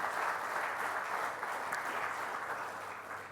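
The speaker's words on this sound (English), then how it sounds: "a loud applause for the winners and for the finalists of the CRN Channel Champion" Steady applause from the audience at the CRN Channel Champion Awards 2010 ceremony, honouring the winners and finalists; dense, even clapping that fills the room and fades only slightly toward the end.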